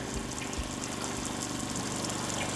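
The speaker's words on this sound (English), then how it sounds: "now we're going to flush the cold until you get just a nice steady stream coming out there" Cold water rushes steadily from a faucet in a Winnebago View or Navion RV during de-winterizing, a continuous close hiss with a low pump hum underneath.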